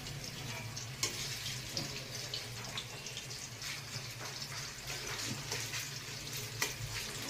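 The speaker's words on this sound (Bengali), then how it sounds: "অল্প অল্প করে ভাজি" Food frying in small batches in a home kitchen, a soft, continuous sizzle with occasional clicks and utensil taps, low and steady with a faint hum underneath.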